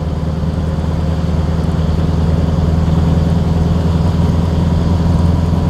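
A 1938 Horch 951 A Pullman Cabriolet engine gives a steady, deep, throbbing drone at close range. It holds an even, moderately loud level throughout with no talk over it.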